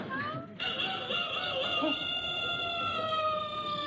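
A backyard rooster crows in a long, drawn-out call that holds steady over a faint background hiss.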